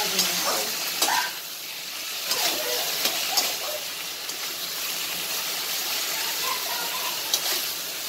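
Poppy seeds fry in a pan, producing a steady, moderate sizzle with a few scraping stirs and short clinks near the start, with quiet voices in the background.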